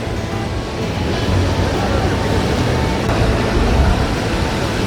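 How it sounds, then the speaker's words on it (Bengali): Big sea waves roll onto Digha beach under a strong, steady wind, a loud continuous roar of surf and gusts filling the scene without any voices. "বড় বড় ঢেউ এবং প্রচণ্ড হাওয়া দিচ্ছে এখানে।"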